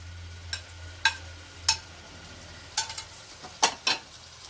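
Tomatoes and ground paste for Kerala-style tomato rasam are stirred in a pan, several short, sharp scraping strokes spaced irregularly over a faint low sizzle.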